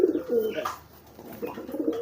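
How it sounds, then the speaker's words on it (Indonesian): Close pigeon cooing from a kolong pigeon, a few throaty rolling coos with a short pause midway, recorded near at hand. "Tuh, ini merpati kolong juga."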